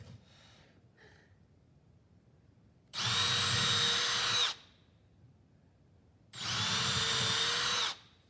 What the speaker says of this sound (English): the whole reason we have this board here screwed down to the table so you don't drill 50 holes in my table